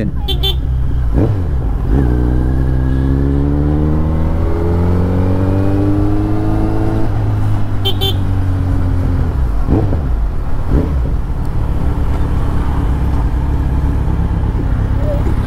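A Kawasaki Z900 motorcycle engine revs up and down with rising and falling tones, loud and close, over a constant rush of riding wind, with a few brief horn toots.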